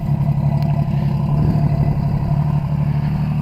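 A Yamaha XS750SE triple with a rorty 3-into-1 header exhaust idles close by, a steady, throaty low rumble with a slightly uneven, burbling pulse.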